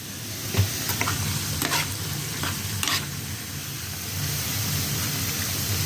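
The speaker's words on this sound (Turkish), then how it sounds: "Kahvaltıda patates kızartıyorum." Steady sizzling of potatoes frying in a pan, with occasional stirring scrapes and clinks, continuous and fairly close.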